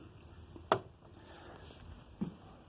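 Faint, high chirps from about 20 feeder crickets kept for a bearded dragon repeat in short bursts against a quiet background, broken by a couple of sharp nearby clicks.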